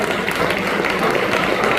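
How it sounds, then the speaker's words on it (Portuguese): A church congregation applauds, a dense, continuous wash of many hands clapping at once, close and loud throughout the short stretch, with faint voices mixed in. "Você pode aplaudir o nome do Senhor?"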